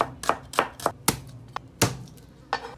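A knife slices soaked banana heart on a cutting board for kinilaw, about eight crisp, close chops in an uneven rhythm with short gaps between them.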